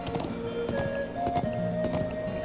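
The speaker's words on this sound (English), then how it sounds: "Welcome back to Horse Riding Lesson 3." Horse hooves clip-clopping at a steady walking rhythm during a riding lesson in Trails of Cold Steel, close and clear, with sustained tonal game music underneath.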